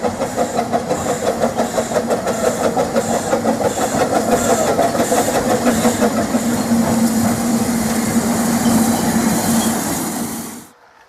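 A model train runs along a garden railway in Britain, a steady rolling rumble with rhythmic clicking of wheels over rail joints and a sustained tone, continuous and fairly loud for about ten seconds before cutting off abruptly.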